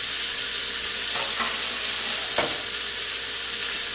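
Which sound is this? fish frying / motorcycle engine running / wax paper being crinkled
fish frying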